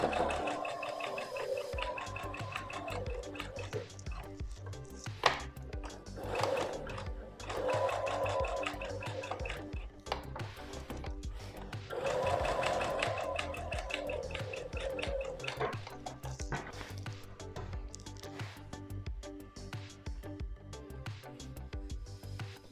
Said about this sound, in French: il vous reste plus qu'à coudre ici autour à 1 cm du bord pour enfermer en fait la couture à l'intérieur du col